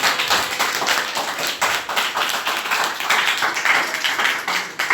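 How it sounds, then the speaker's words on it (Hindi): A group at a Sahaj Yoga meditation session in Gurugram claps hands together in a loud, steady, slightly uneven rhythm that carries on for about five seconds, with no speech. "ताली बजाओ"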